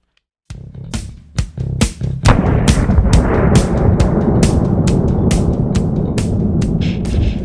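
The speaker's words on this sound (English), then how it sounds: "the 5 shots from 7 yards using Nosler match ammunition" Walther CCP M2 pistol fired with Nosler match ammunition at an outdoor range, 7 yards from the target: a loud, fast string of sharp gunshots, each trailing into a dense roar and echo, with no voices.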